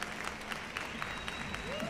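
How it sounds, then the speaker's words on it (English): Conference attendees clap together, a fairly quiet, distant wash of applause with scattered sharper claps and a brief tonal whistle or voice rising near the end. "So big round of applause for you guys as well,"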